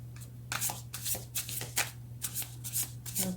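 Tarot cards being shuffled during a card reading: quick riffling bursts repeat close to the listener at a fairly soft level over a steady low hum, with no talking.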